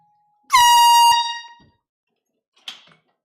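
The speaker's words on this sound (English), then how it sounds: "That's an air horn, meaning a crate of metal just got delivered" An air horn blasts once, loud and steady for about half a second before tailing off, then a shorter faint toot follows, announcing a crate delivery during a live vinyl record sale.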